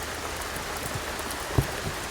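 Steady rain pours down during a rainstorm, a dense, even hiss of drops on surfaces with one brief louder thump partway through and no voices.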